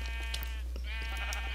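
Sheep bleating in the video game Sheep Quest, repeated tonal bleats rising and falling over a steady low hum, fairly quiet and continuous throughout.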